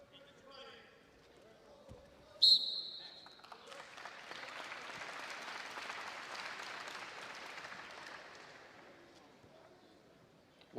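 Crowd applause swells and holds for several seconds in a packed arena at an Iowa State vs Stanford men's college wrestling dual meet, with a commentator talking over it.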